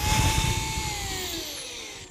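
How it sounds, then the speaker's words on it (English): A power drill whines close by as it bores a pilot hole into wood for a wine rack frame, one continuous run with its pitch slowly dropping under load. "we're going to drill the first pilot hole"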